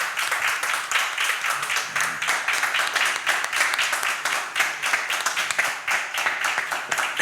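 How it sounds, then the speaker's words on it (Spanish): A lecture-hall audience at a Spanish literary meeting with a guest author gives strong, sustained applause: many hands clapping in a dense, continuous patter that holds steady and loud throughout. "Vamos a darle un fuerte aplauso a Francisco."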